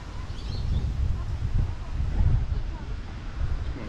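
Wind near a Mallorca beach buffets the camera microphone with a steady low rumble and broad hiss that swells and eases throughout, with no other clear sound.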